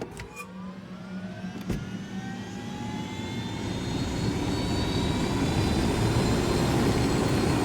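Aircraft flying in the video game Ghost Recon, a steady engine roar that slowly swells louder, with a brief thump early on and no talking.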